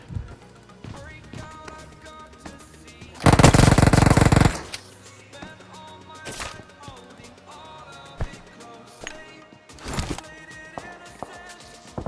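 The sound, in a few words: gunfire in a video game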